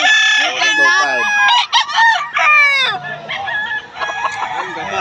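Roosters and hens at a livestock market in Bocaue, with several loud, close crowing calls overlapping, followed by clucking and squawks. Busy market noise runs faintly underneath.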